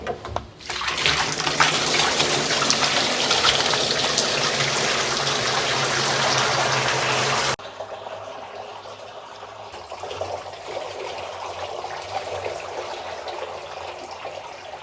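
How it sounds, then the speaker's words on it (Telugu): Water gushes steadily from a tap into a drum, a loud continuous rush that drops to a quieter, lower flow halfway through. "ఈ డ్రమ్లో నీళ్ళు నింపి"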